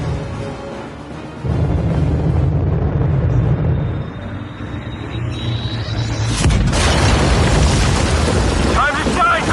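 A bomb goes off in the video game Aliens: Dark Descent, a heavy booming blast followed by a sustained rumbling roar that surges louder partway through, with game voices talking over it.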